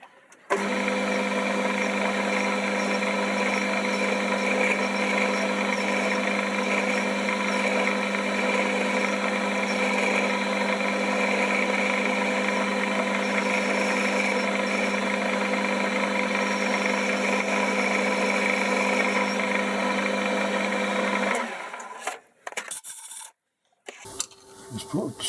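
A metal lathe turns an expanding mandrel for a headstock handle at a 30 degree angle, a loud steady hum with a raspy cutting tone held for over twenty seconds before it winds down.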